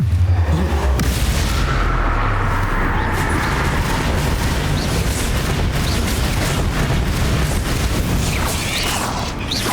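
Loud continuous blasts and crashing from Bombarda and Confringo explosion spells in Hogwarts Legacy on Nintendo Switch, dense rumbling impacts filling the whole stretch with no talking.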